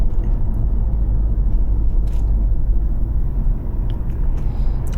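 C5 Corvette being driven on the road, heard from inside as a steady, loud low engine drone with continuous road rumble, no talking.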